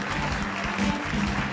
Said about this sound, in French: Briochin, on peut les applaudir.